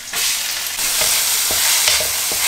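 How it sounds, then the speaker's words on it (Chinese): Minced pork and ginger are stir-fried in hot oil, producing a close, steady sizzle broken by several distinct scraping stirs of the spatula against the pan. "这提前准备好的肉末，把它再给我炒一下"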